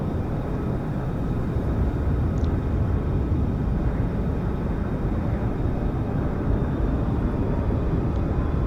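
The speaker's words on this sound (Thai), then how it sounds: "เครื่องบินไม่ค่อยสวยนะ เวลาแลนเนี่ย" A simulated airliner lands at Copenhagen in a flight simulator game, a steady droning engine and airflow roar that holds evenly throughout with no talk.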